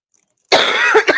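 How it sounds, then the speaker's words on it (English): A person with a lingering morning cough gives a single sharp, close cough followed by a short second burst, preceded by near silence. "I still have a little bit of a cough"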